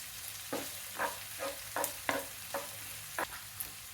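Chopped onions and green chillies fry in a pan for a tomato and chana dal curry, giving a steady soft sizzle with about eight evenly spaced stirring scrapes, close and alone.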